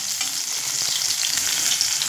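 Fish frying in hot oil, a dense, continuous close sizzle with faint stirring noises, steady throughout and no voices.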